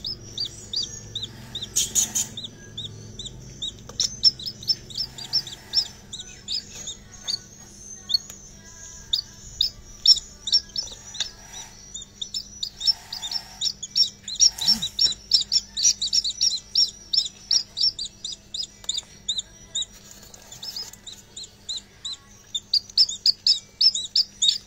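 Recorded swiftlet (walet) calls, played for learning to make swiftlet sounds: a steady stream of rapid, high, twittering chirps in quick repeated bursts, fairly clear and continuous, with no talking.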